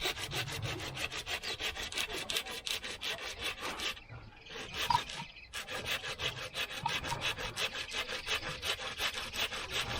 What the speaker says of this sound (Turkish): Maşallah senin testere iyiymiş ya.